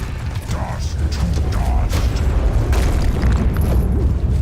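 A frag grenade goes off inside a Locust emergence hole in Gears of War, a heavy booming blast with rumbling debris, amid ongoing game action and noise.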